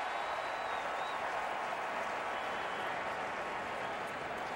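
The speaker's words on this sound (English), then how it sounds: "This crowd is a live wire crowd" Steady roar of a large baseball crowd at Wrigley Field during a 2015 NLDS playoff game, Cardinals at Cubs, a dense wash of cheering and applause holding constant at moderate level throughout with no distinct talk.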